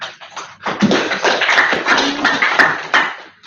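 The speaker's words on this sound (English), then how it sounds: "I do love clapping." An audience at a Laravel developer meetup in Johannesburg claps in a dense, close burst of applause that swells and fades over a few seconds.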